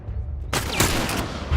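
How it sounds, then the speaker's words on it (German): Hunting rifle fire in the video game The Last of Us comes as a sudden loud blast followed by a second sharp crack and a ringing tail, with no voices over it. "Irgendwo muss einer sitzen, der auch da rumschießt. Mit seinem Jagdgewehr."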